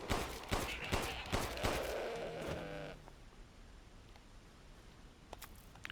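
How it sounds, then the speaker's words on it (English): A goat in the video game Resident Evil Village bleats amid rustling and sharp footstep-like hits, followed by quieter ambient game noise. "Oh, there's a goat."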